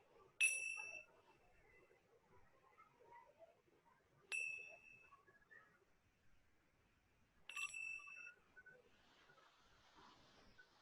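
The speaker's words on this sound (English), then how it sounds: "And just tuning into the sound of this gong." A gong rings out three times, widely spaced, during a quiet centering meditation, each bright metallic strike sharp at first and then fading into near silence.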